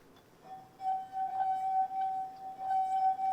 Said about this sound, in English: when you play it with the wet finger around the rim